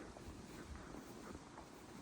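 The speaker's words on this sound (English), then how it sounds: "although it's quite a windy day" Steady wind buffets the microphone in a cottage garden near Redruth, Cornwall, with a constant low rumble and hiss, no other sounds standing out.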